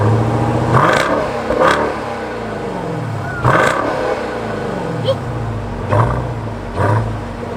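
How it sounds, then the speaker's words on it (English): A Jeep Grand Cherokee Trackhawk with quad exhaust is revved from outside in repeated sharp bursts, each roaring up and falling back to a rumbling idle, with someone talking over it between revs. "Let's let them hear that rev from the outside."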